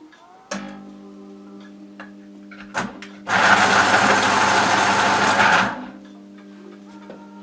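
A black pastel pencil is ground in a sharpener, giving a steady close whirring buzz lasting about two and a half seconds, preceded by a couple of brief clicks against a quiet background.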